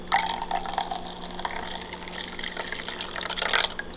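Water streams into a bowl of eggs for a steamed keto egg pudding, a close, bubbly filling sound that runs steadily with a louder gurgling swell near the end.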